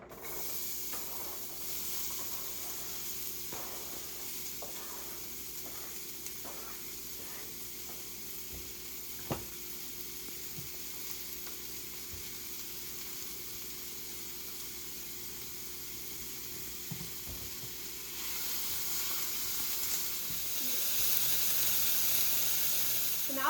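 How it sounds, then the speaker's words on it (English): A sliced white onion with a pinch of salt sizzles in a hot pan as it caramelizes, a low steady hiss that runs on and swells slightly near the end, with no voices. "add our 1 white onion and then a pinch of salt to the pan, and we're going to let that caramelize"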